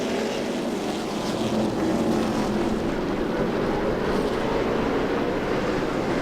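Stock cars race under green flag at the 2015 Menards 200, their engines merging into a loud, unbroken roar that swells slightly as the pack passes, with no commentary over it.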